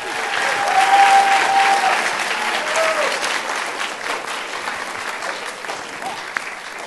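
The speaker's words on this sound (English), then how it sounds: "round of applause to Professor Streeter and Professor Davis" A round of applause from the audience at a university high school math tournament, a thick sustained clapping from many hands, loudest early on and then settling into a steady even patter for several seconds.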